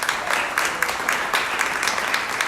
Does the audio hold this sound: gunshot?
no